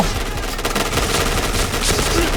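Dense, continuous automatic rifle fire from an HK-417 in the shooter game Point Blank, rapid overlapping bursts filling the whole stretch at steady loudness with no pauses.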